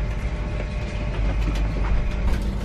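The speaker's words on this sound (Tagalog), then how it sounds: "Ito yung kanilang train dito." Continuous rumble of a first-class passenger train running along the rails in the UK, a steady low roar with faint clatter throughout and no talking.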